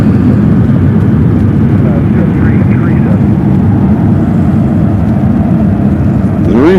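FedEx cargo plane arriving at Memphis International Airport, a loud, steady jet roar that fills the whole clip, with people talking over it.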